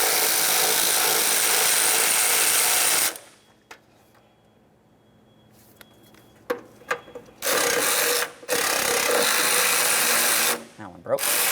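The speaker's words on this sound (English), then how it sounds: "We're going to continue by removing the rest of this metallic aspect of the cowl." A power tool spins out 10mm bolts from the metal cowl of a 2004–2006 Scion xB, running in long loud whirring bursts split by quiet gaps with small clicks and handling sounds.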